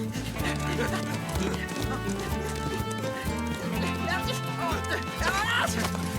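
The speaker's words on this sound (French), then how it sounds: "Je ramène les chevaux à votre commandant." Cartoon horses move with a busy clatter of hooves and a whinny, mixed with music and commotion, fairly loud throughout.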